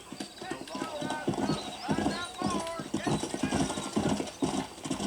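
A horse gallops in the Red Dead Redemption video game, its hooves beating a steady, rapid clip-clop close by with an occasional whinny. Voices talk over the hoofbeats throughout.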